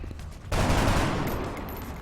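A burst of gunfire from the turn-based strategy game XCOM: Long War erupts abruptly and stays loud and dense, a sustained fusillade of overlapping shots.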